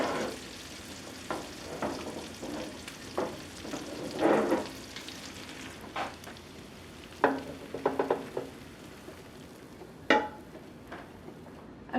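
Sausage and onions frying in a pan, with a steady sizzle broken by intermittent scraping and stirring clatter from a utensil, heard close and without speech.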